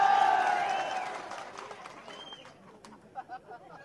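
Crowd at a political rally applauding and cheering loudly, fading over a few seconds as the noise settles, with a few scattered claps and shouts near the end.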